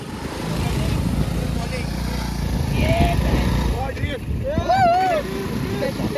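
A motorcycle engine circles on a beach, a steady mid-distance drone that rises and falls, with people talking and shouting over it.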